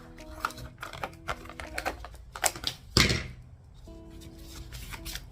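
Scissors or a blade cutting a flexible plastic container into a small spatula wedge, a run of close crisp snips and clicks with one louder crackle partway through, no talk.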